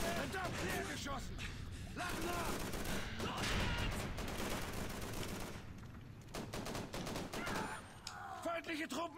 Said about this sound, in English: Oh my god, I'm being shot.